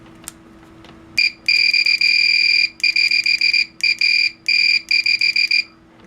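A vintage Fluke 189 multimeter sounds its continuity beeper in a series of loud, shrill bursts, some long and some short, chopped in an irregular pattern over a steady low hum, with no talking.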